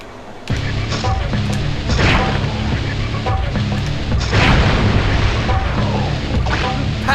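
Generators blowing up in a Spider-Man video game produce a sustained, loud rumbling roar with repeated booming surges over a game music bed.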